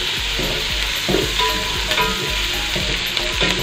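Onions frying in hot oil with cloves and cinnamon bark in a home kitchen, a loud, steady sizzle with repeated scraping stirs of a spatula close by and no talking.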